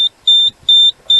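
A Nugelec type 2b fire alarm panel sounds its alarm, giving three loud, high electronic beeps in a steady on-off pattern, each lasting about a fifth of a second, with no talking.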